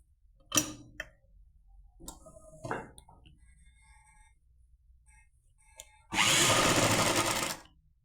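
A sewing machine stitches the shoulder seam of a lined shirt, running in one loud, steady burst of about a second and a half near the end, after scattered clicks and handling noises.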